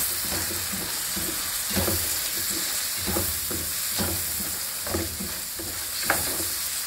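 Mushrooms sizzle in a pan for creamy chicken pasta, with a steady frying hiss and repeated scraping stir strokes roughly every second, close and moderately loud with no talking.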